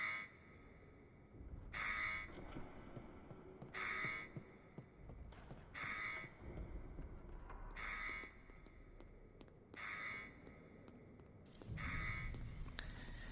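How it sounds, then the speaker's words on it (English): A harsh electronic buzzer in the video game Post Trauma sounds in short bursts at a steady, even tempo, about every two seconds, over a low background. "you also must listen to the tempo of the buzzer"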